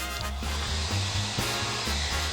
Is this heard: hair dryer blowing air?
yes